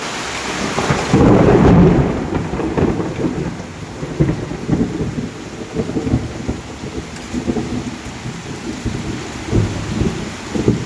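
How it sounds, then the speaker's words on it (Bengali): A heavy thunderstorm rumbles with deep rolling thunder over a steady roar of pouring rain, loud and continuous throughout, with a stronger thunder swell early on. "বজ্রপাতের আওয়াজ ফোনে তেমন একটা আসতেছিল না কিন্তু বাস্তবে অনেক অনেক আওয়াজ হচ্ছিল"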